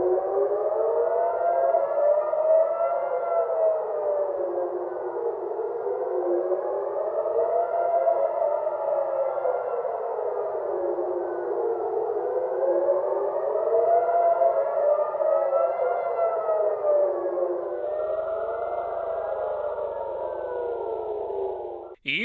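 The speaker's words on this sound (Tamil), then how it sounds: "பொதுமக்களுக்கு அறிவுறுத்தல் வழங்கும் வகையில் எச்சரிக்கை சைரன்கள் ஒலிக்கப்பட்டன" Civil defense warning sirens in Tel Aviv during a missile attack wail in slow rising and falling cycles, loud and continuous, with a faint low rumble entering near the end.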